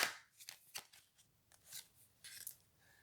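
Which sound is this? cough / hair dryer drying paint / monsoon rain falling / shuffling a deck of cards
shuffling a deck of cards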